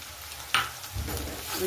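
Green chilies and potatoes fry in a pan for sabudana khichdi, a sharp scrape of stirring followed by a steady, close sizzle.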